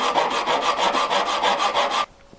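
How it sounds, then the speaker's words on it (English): Close rhythmic rasping as a metal file works the end of a hard wire earring post flat, about a dozen quick, even back-and-forth strokes, then it stops abruptly. "First, file the end completely flat."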